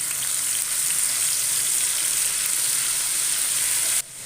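Ginger garlic paste fries in ghee in a pan, a loud, dense, even sizzle held close for about four seconds before it drops away abruptly at the end.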